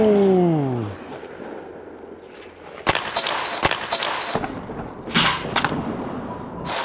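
An ice hockey puck shot rings off the crossbar at Färjestad: a series of sharp, loud cracks and clangs, each with a short ringing tail, after a fading tonal whistle.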